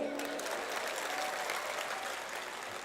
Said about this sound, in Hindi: अच्छे से तालियां बजाइए।